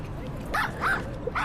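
A small dog on a Shibuya street at night gives several short, high yapping barks spaced unevenly over a low background hum, moderately close.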